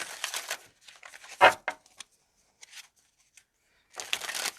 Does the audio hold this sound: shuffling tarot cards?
yes